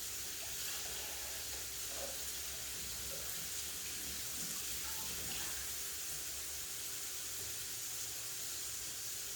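Spinach and lettuce salad greens rinsed under a running kitchen tap, a steady, even rush of water that holds for the whole stretch with no talking.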